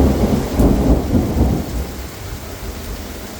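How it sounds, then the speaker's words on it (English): Thunder rolls and rumbles during a rainy thunderstorm heard from a balcony, a loud deep rumble that fades out under steady rain hiss, with no voices. "if I get struck by lightning right here, I might fall off my balcony"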